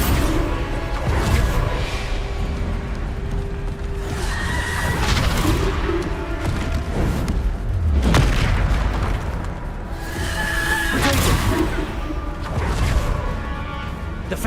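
Bombarda spell blasts in Hogwarts Legacy go off in repeated heavy booms with rumbling low-end, several impacts spaced every few seconds amid continuous game noise, loud and close, no talk.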